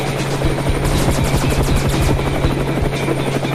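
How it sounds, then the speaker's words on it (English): A helicopter flies close by with loud, steady rotor chopping and engine whine throughout, with no voices over it. "I don't know if I can get us away from that helicopter"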